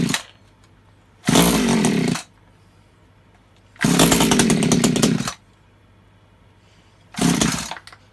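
An Echo CS3400 climbing chainsaw fires up in three loud, close bursts of buzzing two-stroke engine revving, separated by quieter idle or near-silent gaps.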